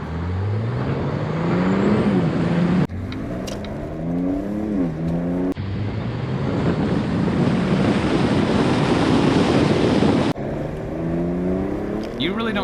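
A Cadillac CTS VSport with a cheap intake mod drives along while heavy wind buffets the exterior microphones, making a loud, steady rushing roar that smothers any engine or intake sound, broken by a few abrupt cuts.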